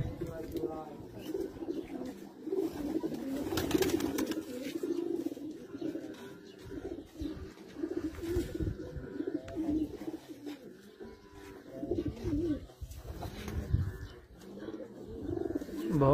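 Teddy flying pigeons coo in a steady low murmur, several birds overlapping close by, with someone talking over them through most of the stretch.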